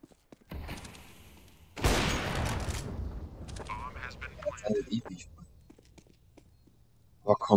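Gunfire in the game Counter-Strike: Global Offensive, with a loud burst of shots layered over a voice and game sounds, followed by scattered thuds and a few sharp reports at the end.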